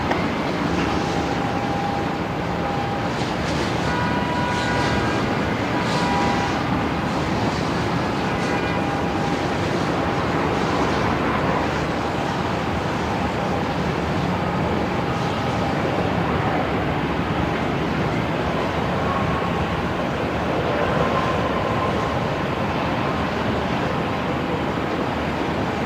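Steady, loud broadband roar of a jet airliner lining up on runway 34 at Melbourne Airport, heard from a distance with continuous rumble and hiss and no talking.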